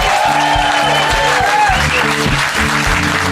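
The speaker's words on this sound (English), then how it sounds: "Another round of applause for the band." A live Christmas show audience applauds the band, a dense, loud wash of clapping that holds steady throughout, with band instruments sustaining tones underneath.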